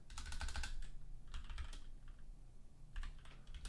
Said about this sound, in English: you can actually type on the circle